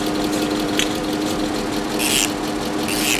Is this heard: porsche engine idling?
yes